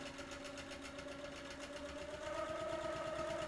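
A sewing machine stitches quilt layers in a steady, fast mechanical whirr with a rapid regular needle rhythm, heard close and alone, picking up slightly in speed and loudness toward the end.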